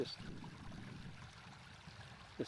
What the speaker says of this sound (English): It bubbles out right there.